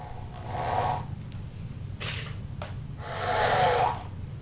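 A power driver buzzes in three bursts, driving screws through glued workbench surfaces to clamp them together, the whirring close and steady with short pauses between.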